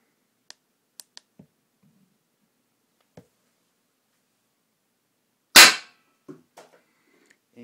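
A Flasc TM-15 paintball marker fires a single loud, sharp shot midway, followed by a brief mechanical rattle, with a few faint clicks before and after in an otherwise quiet setting.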